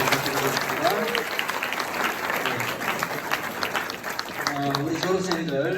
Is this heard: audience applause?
yes